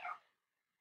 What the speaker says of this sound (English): my dog is outside howling at the noon whistle right now